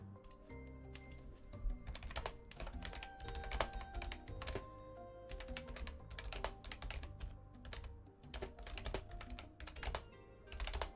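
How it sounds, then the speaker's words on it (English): Steady, rapid keystrokes on a computer keyboard, close and fairly loud, with clustered bursts of clicks and brief pauses throughout, no voices. "just typing that out so it's clear"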